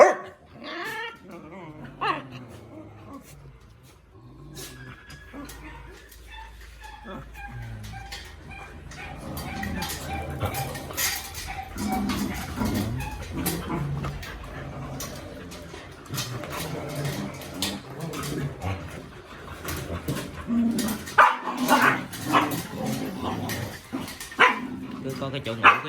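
Dogs at a shared dog and cat shelter bark and growl repeatedly through a noisy afternoon, the barking close and persistent, mixed with people talking nearby.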